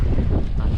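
Wind blows over a small fishing boat out at sea at night during squid fishing, a steady, loud, close rumble of gusting air against the microphone with no voices.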